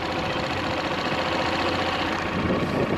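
A motorcycle engine on a geared learner bike on a slight uphill idles in a steady, close, rough mechanical drone with a faint rise in revs, alone for the few seconds.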